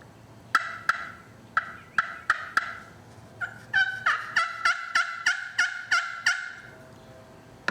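Vintage ceramic pot turkey call worked with a striker, producing a series of sharp, close yelps in a steady rhythm, roughly a dozen in all, with a short break in the middle, and no voices.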